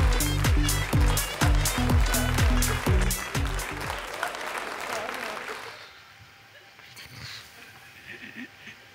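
A studio audience on a comedy club show claps in three sharp, rhythmic, synchronized bursts for about four seconds, then the applause trails off into scattered clapping and quieter room noise.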